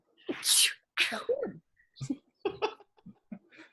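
A person sneezes loudly and close, a sharp burst followed by a second sneeze, then brief voices and laughter, indoors during a tabletop Dungeons and Dragons session.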